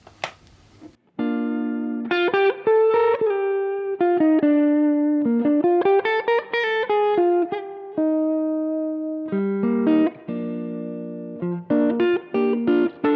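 Electric guitar through an overdrive boost pedal, playing a lively melodic phrase of picked notes and short runs. The tone is clear and mildly driven, with no talking.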